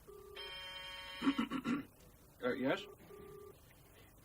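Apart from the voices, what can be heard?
telephone ringing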